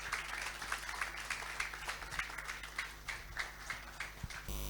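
Applause welcoming a speaker at a CIoD Fellows luncheon, faint and somewhat distant, with irregular clapping bursts sustained for several seconds.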